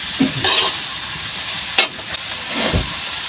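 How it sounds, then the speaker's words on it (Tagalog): Pancit miki noodles being stirred as they fry in a pan, with close scraping strokes of the utensil over a constant sizzle and a few sharp clatters, and no speech. "Haluin po natin guys."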